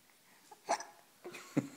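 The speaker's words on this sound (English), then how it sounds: "Do you have the hiccups now?" A two-month-old baby hiccuping up close in a quiet room: a few short, soft, separate hiccups with small breathy catches between them, unevenly spaced.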